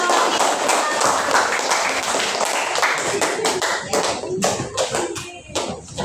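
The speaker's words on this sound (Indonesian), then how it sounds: "kita kasih aplaus untuk kelompok aktif" A classroom group applauds an active student team during a science lesson, a burst of close, uneven hand claps that thins into scattered taps toward the end, with some talking underneath.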